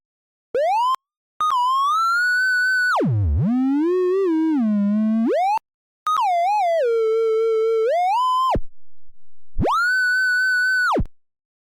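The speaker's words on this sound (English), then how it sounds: "Now for the triangle wave." A bright, buzzy synthesized triangle-wave tone with soft overtones sounds alone in loud sustained notes, gliding and swooping between pitches with short silent gaps.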